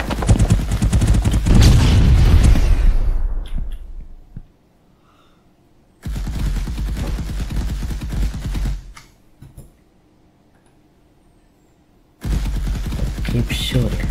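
Rapid gunfire bursts from an Unreal Engine 5 shooter video game, loud, dense volleys in three separated stretches with near-silent gaps between them.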